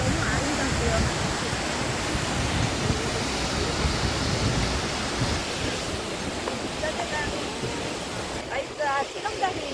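A rain-swollen waterfall rushing heavily in a constant broadband roar for the whole stretch, with a few faint voices near the end.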